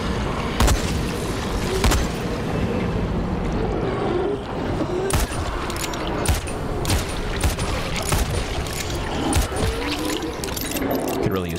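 Grenade blasts in the video game Dying Light The Following, a string of muffled, fairly soft booms and sharp cracks repeating irregularly over a dense rumbling game backdrop.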